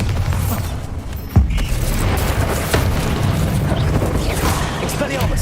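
A Bombarda blasting spell bursts in Hogwarts Legacy with a sharp, booming impact followed by a rumbling crash and ongoing battle noise, and a spoken voice shouts over it.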